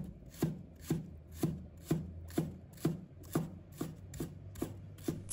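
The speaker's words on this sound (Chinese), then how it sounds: "把它切成小粒。" A knife chops spring onion whites into small pieces on a board for mapo tofu, about a dozen soft, evenly spaced cuts, close but quiet.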